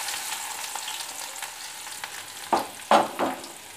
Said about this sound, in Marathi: आता यामध्ये मी बारीक चिरलेला कांदा घालतीये